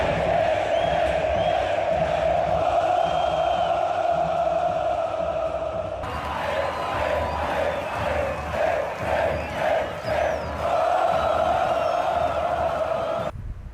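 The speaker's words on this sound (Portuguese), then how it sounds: "uma cena bonita da torcida do Vasco em festa, cantando a musiquinha do Jimmy" Vasco football supporters in a stadium crowd celebrate a 4-0 win over Portuguesa, a dense, loud mass of chanting and cheering voices that swells and pulses rhythmically throughout.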